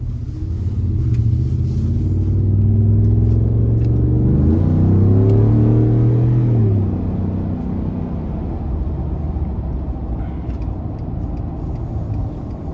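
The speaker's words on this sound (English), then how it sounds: "Let's go ahead and take this 2020 F-150 Black Widow out on the road for a quick test drive." 2020 Ford F-150 Black Widow pickup with a 5.0 V8 and 10-speed automatic driving on the road, a deep engine rumble that swells as it accelerates and then eases into a steadier cruising drone.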